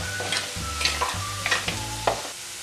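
Ginger and garlic frying in a pan for a Kottayam-style fish curry, with a steady sizzle broken by several spoon scrapes and clinks against the pan, over a low background hum.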